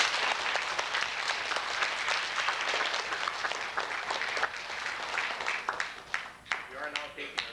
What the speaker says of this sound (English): How about a nice round of applause for that?